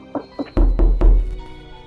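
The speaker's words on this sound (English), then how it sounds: "the hungry wolf raced to Grandma's house and knocked on her green door" Knocks on a door, a few dull thumps: two lighter taps followed by three heavier, booming knocks in quick succession, close and loud.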